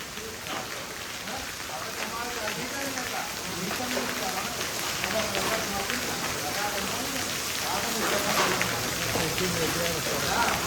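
Steady rain patters and hisses on surfaces outdoors, a dense, continuous wash of drops growing slightly heavier toward the end, with a voice talking over it in places.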